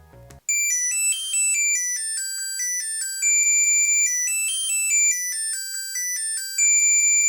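A SwitchBot Wallet Finder Card plays its alert, a bright electronic ringtone of high beeping notes in a repeating melodic pattern, clear and steady after a brief low thump at the start.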